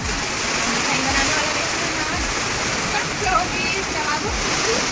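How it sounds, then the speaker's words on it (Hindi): Heavy rain with strong wind during a wedding gathering makes a dense, continuous roar of water and gusts, with rhythmic low thumps underneath. "आज भी जोरदार पानी हवा"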